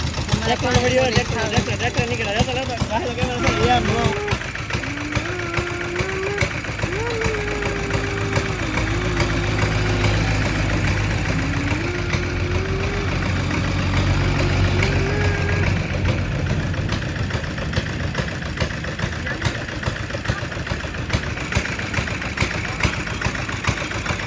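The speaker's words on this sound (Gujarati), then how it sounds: "ત્રીજું છેલ્લું ટ્રેક્ટર આવે છે" A tractor engine idles steadily throughout with a low rumbling chug, while people talk over it nearby.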